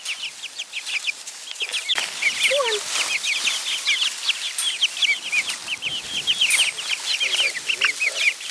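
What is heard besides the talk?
chickens clucking while being herded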